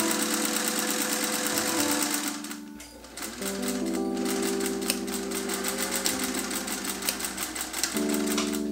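A sewing machine stitches mesh into a seam on a homemade tent, its motor buzzing in a fast, steady mechanical rhythm that briefly slows and pauses before picking up again.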